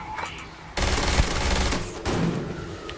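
Automated turrets in Starfield open fire in a sudden loud sustained burst of rapid shots, cutting off, then resuming in a second burst after a brief gap.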